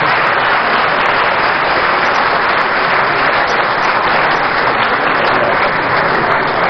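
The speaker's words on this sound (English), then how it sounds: "you may wish to clap for me if you think I've made some sense." Loud, steady audience applause fills a large hall at the KNUST Great Hall during a political meeting with organised labour representatives. It is a dense, continuous wash of many hands clapping with no pauses.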